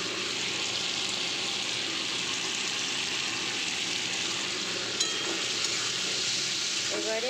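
Taro stolons and shrimp sizzle in a frying pan as they are stirred, a steady close crackling hiss with faint scraping throughout.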